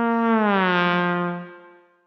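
Trombone from the Lamb Chop Loves Music PC game, a single sustained brassy note held for about a second and a half before fading out, heard alone.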